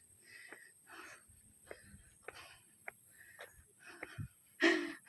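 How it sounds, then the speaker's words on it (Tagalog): Heavy, rhythmic panting from a person jogging uphill with friends, quick breaths close to the microphone, ending in a louder gasp. "Ako hinihingal na."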